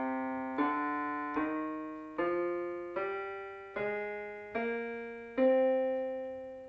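Seven separate notes climbing a natural minor scale at an even, unhurried pace, each one struck and left to decay before the next, played alone and fairly quiet.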